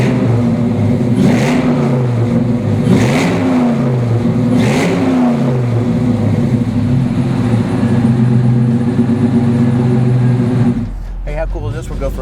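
An LS1-swapped 1966 Chevrolet Chevelle SS pro touring car idles with a deep steady rumble and swells through several rev blips, then the engine note cuts off near the end.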